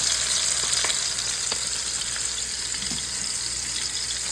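Salisbury steak frying in hot grease in a pan, a continuous loud sizzle with a few pops and crackles, heard alone without talk.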